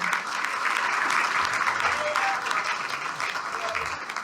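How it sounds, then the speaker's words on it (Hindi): Loud, steady applause from an audience at an RCM company achievement event in India, sustained for about four seconds with a dense, even texture and a slight drop at the end. "एक बार जोरदार ताली आप बजाएं राखी जी के लिए"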